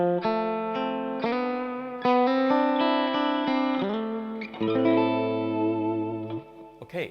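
Electric guitar played through a Copycat tape echo into an amp, ringing out sustained chords and single notes with a thick, shimmering repeat tail, loud and close.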